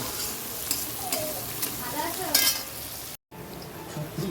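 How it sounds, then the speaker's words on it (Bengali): Onions sizzle and crackle in a hot pan, with occasional stirring scrapes, close and steady, and a brief break near the end. "দেখো পেঁয়াজটা ভাজা হয়ে গেছে মোটামুটি"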